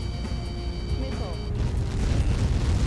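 A large blast in the Ace Combat 7 flight game rolls out as a deep, sustained rumble that swells after a sharp onset and keeps booming loudly, with game radio chatter and tones over it.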